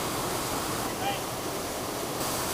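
Water rushes between a river and a waterfall in Ishikawa, Japan, a steady hiss of flowing, falling water that stays constant and even throughout, with no talk over it.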